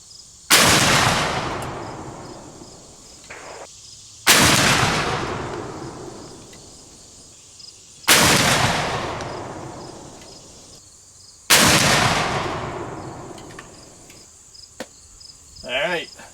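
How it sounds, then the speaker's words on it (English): Four loud, sharp shots from an 1859 Sharps rifle firing a group at 50 yards, spaced about four seconds apart, each a sudden blast trailing into a long echoing decay outdoors, with faint insect chirping in the background. "now I'll shoot it for a group and see where we're placing for real"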